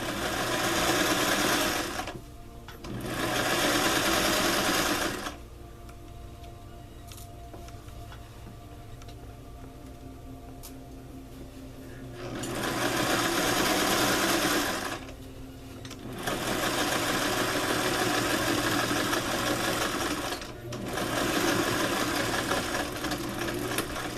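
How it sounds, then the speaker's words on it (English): A sewing machine stitches a placket zipper in several steady bursts of fast, even mechanical chatter, each lasting a few seconds, separated by quiet pauses with faint handling sounds. "Sewing straight."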